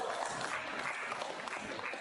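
A standing audience at a community festival event claps in a dense, continuous patter, heard at a distance and fairly faint, without any break.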